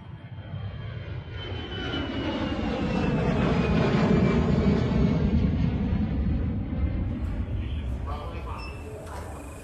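A loud, steady airplane engine roar swells and then slowly fades, with a continuous low rumble and some voices faintly mixed in.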